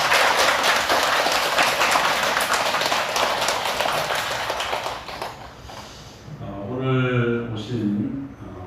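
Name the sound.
audience applause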